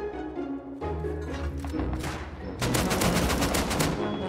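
Automatic gunfire in the survival video game Rust, rapid bursts of shots that grow denser and louder toward the end, heard over faint background game sound.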